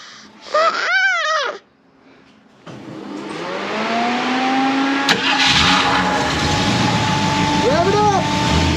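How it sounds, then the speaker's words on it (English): A Ford Mustang engine starting and revving close by, a rising roar that holds loud and steady, with a person's brief vocal sounds early on. "You're supposed to rev it up a little."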